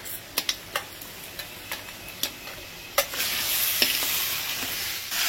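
A fish head is stir-fried in a pan for a Bengali festive meal, giving a run of sharp spatula scrapes and taps over a steady sizzle that swells louder in the second half, close and without talk.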